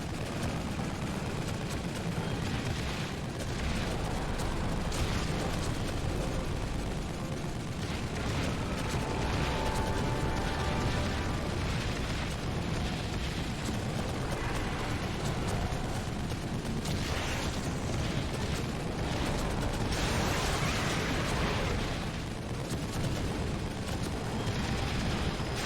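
Rockets from a rocket launcher fight in The Evil Within keep exploding in dense, loud booms and blasts that run on without a break, with gunfire-like bursts mixed in.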